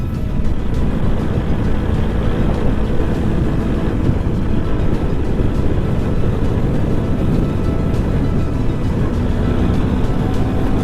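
A Suzuki Max100 two-stroke motorcycle riding along a road, giving a continuous rough engine and road roar mixed with wind rush, with no speech.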